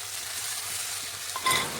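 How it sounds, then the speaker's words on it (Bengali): Spice paste for mutton curry fries over low heat, a steady soft sizzle with a brief brighter crackle and scrape of stirring near the end. "এখন মশলাটা ভালোভাবে কষিয়ে নিচ্ছি"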